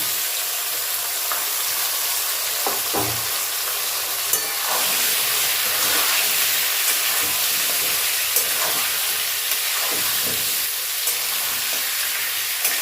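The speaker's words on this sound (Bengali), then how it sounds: "এবার সবটা হালকা করে ভেজে নেব" Potatoes and turnips fry in a pan with a loud, continuous sizzle and hiss, broken by occasional clicks and scrapes of stirring.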